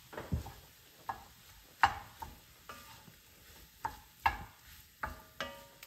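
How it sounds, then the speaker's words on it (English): Sausage is added to a tortellini and kale soup and stirred in, with soft repeated scraping and clinking strokes of a spoon in the pot over a faint sizzle. "I'm gonna go ahead and add in my sausage over here. Get that all mixed in."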